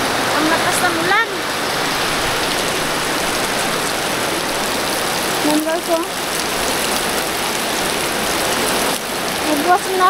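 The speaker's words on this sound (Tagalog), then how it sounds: "Ang lakas ng ulan." Heavy rain pouring down steadily in a rural province setting, a dense continuous roar of water close by, with a person talking over it now and then.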